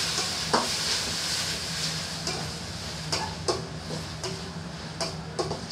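Tomatoes sauté with onion and garlic in a pan, a soft continuous sizzle broken by a few light spoon scrapes and clicks, close and fairly quiet with no talking.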